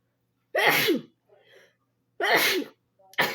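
Close by, a person sneezes sharply twice, with a faint breath between, and a third sneeze starts right at the end.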